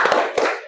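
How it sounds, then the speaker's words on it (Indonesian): A school class in a lesson on the Qur'an performing a short rhythmic spirit clap, a few quick sharp hand claps close together, with no talking. "Kita tepuk semangat dulu ya."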